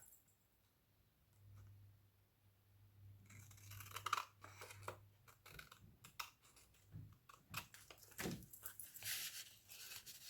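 Scissors cutting paper for an envelope pocket, a run of close, crisp snipping and rustling bursts after a quiet start, with light paper handling noise throughout.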